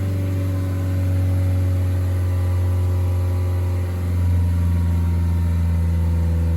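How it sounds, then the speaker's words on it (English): A Citroën Berlingo B9 van's 1.6 HDi diesel engine holds a steady raised rev, then eases back down toward idle, a loud, close, continuous drone with no talking over it. "Just hold the rev steady for a second and then we'll gradually let them drop."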